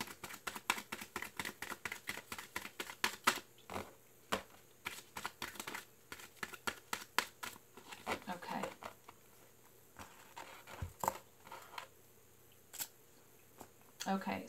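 Tarot cards are shuffled in a long run of rapid, soft papery flicks and taps, close and quiet, with brief pauses.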